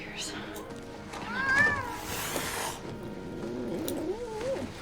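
A cat meows with rising and falling cries over a soft purr in a film scene set in a rundown house, moderately close, with people talking around it.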